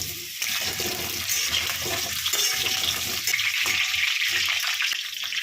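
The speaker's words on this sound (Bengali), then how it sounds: "হলুদ আর কাশ্মীরি লাল লঙ্কার গুঁড়ো দিয়ে ভেজে নিচ্ছি" Cut potato pieces frying in white oil in a kadai, a steady broad hiss of bubbling oil running close and continuous with no talk.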